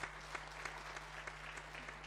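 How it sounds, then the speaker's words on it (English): A crowd applauding steadily for about two seconds, dense patter of many hands clapping at moderate distance, with a low steady hum underneath. "Let us give her a round of applause."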